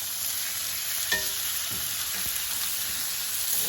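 Pork chops sear in a hot pan with a steady, close sizzle, broken by a few faint clicks and taps as they are moved, with no talking.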